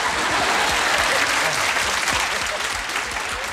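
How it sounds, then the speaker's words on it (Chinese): A studio audience on a Taiwanese TV variety show applauds steadily, a dense clatter of many hands clapping at close range throughout. "掌声鼓励一下。"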